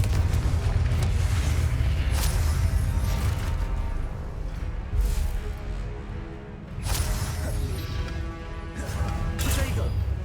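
Confringo blasting spells explode in Hogwarts Legacy combat, loud crashing bursts over a dense roaring battle din, with sharper blasts near the middle and toward the end, and a voice calling out.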